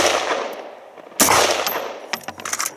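A WWSD2020 rifle fires a quick burst of shots outdoors, one loud sharp report followed by a rapid string of cracks, with distant rumbling before it.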